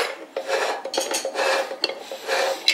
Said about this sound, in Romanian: ca și cum e fier pe fier.